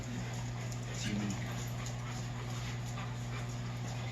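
A dog whimpers and yips faintly during a dog training session, under a steady background hum.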